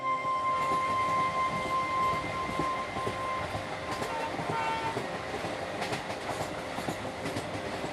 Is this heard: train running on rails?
yes